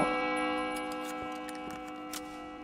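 A clock bell in the video game Generation Zero strikes repeatedly, each ringing chime sustaining and overlapping the next in a steady series of evenly spaced strokes, loud and clear with no talking.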